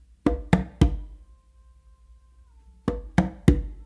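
Conga struck with finger, close slap and bass hits, with two quick groups of three sharp, close drum strokes separated by a quiet pause holding a faint tone.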